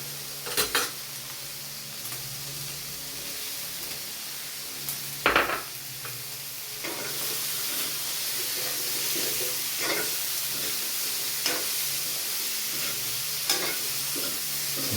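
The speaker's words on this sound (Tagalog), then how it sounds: "Yung gisa-gisa lang." Squash and string beans sauté in a pan, a steady sizzle punctuated by sharp scrapes and clanks of a spatula stirring against the metal, with the frying growing louder and denser in the second half.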